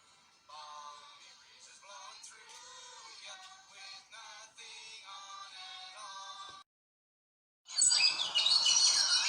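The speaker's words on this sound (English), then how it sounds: "Do you hear the birds singing?" Birds in a bird park sing and chirp in bright, layered warbling phrases, fairly faint at first, then breaking off briefly before a louder burst of song returns near the end.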